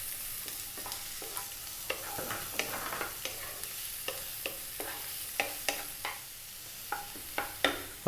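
Onions fry in a pan, a soft steady sizzle broken by frequent sharp scraping taps of stirring, quiet and close with no voices.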